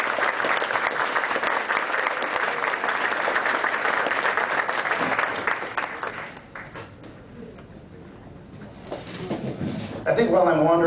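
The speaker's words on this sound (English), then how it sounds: "round of applause for Cody" Convention crowd applauding a fursuiter guest of honor at a closing ceremony, dense clapping for several seconds that thins out midway, then a voice begins speaking near the end.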